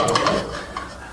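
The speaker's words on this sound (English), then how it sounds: "we'll get this pan cleaned out" A metal pan being scraped and cleaned out in a kitchen during cooking: short, clattering scrapes and knocks that come in a quick, uneven run, then taper off into quieter scuffing.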